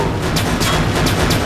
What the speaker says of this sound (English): Nice explosions, dude.